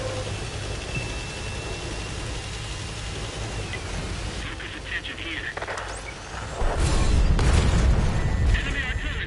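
In the World of Tanks video game, artillery fire lands in heavy, deep booms, building to loud, rumbling blasts near the end of the stretch among ongoing battle noise.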